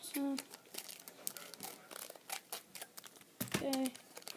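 Scissors snip open a Pokémon trading card pack, giving a couple of brief crisp cuts and crinkling foil wrapper rustles, close and fairly loud, with short pauses between.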